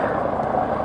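A twin-engined aerobatic helicopter with two 460-horsepower Allison 250 turboshafts performs at an air show, giving a steady, droning engine and rotor hum at moderate distance.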